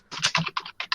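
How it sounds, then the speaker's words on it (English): Loud typing on a computer keyboard, close by, a quick burst of clattering keystrokes in uneven clusters with no talk. "Typing is loud."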